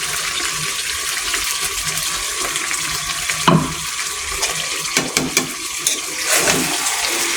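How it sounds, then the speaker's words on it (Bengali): Sour yogurt goes into home-style chicken curry frying in a pan, giving a steady sizzle with a few splashing, stirring knocks, continuous and close. "এবার দিয়ে দিচ্ছি টক দই।"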